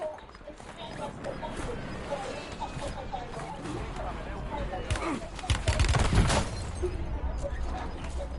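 Video game gunfire, a busy mix of distant and closer shots with rattling automatic bursts that swell into a louder heavy volley, under ongoing voices.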